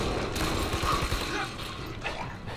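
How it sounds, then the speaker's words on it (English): Shotgun fire in the video game Army of Two: a dense wash of combat noise with a couple of heavy booming blasts amid rattling mechanical clatter. "Double shotgun action. Shotgun from both sides."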